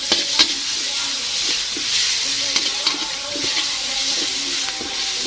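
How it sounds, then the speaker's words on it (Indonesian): Garlic and onion sauté over medium heat in a pan for spaghetti, a bright steady sizzle close by, with occasional taps and scrapes of stirring. "Setelah itu kita tuangkan bawang putih dan bawang bombaynya dulu ya."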